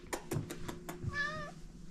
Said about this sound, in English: There goes kitty number one, Oreo.